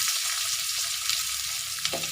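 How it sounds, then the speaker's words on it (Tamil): Onion and garlic fry with mustard seeds in hot oil, giving a steady close sizzle with a brief louder crackle burst near the end, no voices. "அடுத்து கடுகு போடுறோம். வெங்காயம், பூண்டு ஒன்றா போடுறோம்."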